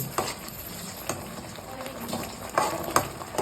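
Fish frying in hot oil for a Telugu-style jalebi fish curry, stirred now and then, giving a steady close sizzle with a few soft scraping stirs and light clinks.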